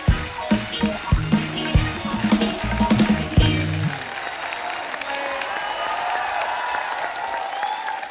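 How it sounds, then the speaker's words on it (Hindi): A studio audience on a Hindi comedy talk show claps for arriving guests, with a few sharp claps and music in the first seconds giving way to sustained, loud, dense applause that carries on alone. "एक बार जोरदार तालियां हमारे मेहमानों के लिए।"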